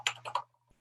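A few quick keystrokes typed on a computer keyboard while entering a command in RStudio, three short clustered bursts of clicks, close and clear, then quiet.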